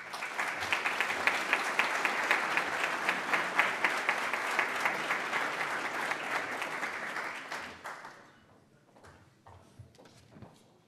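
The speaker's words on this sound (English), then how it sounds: "let's give them a round of applause" An audience at a meeting breaks into a burst of applause that runs for about eight seconds, then tapers to a few scattered, fading claps.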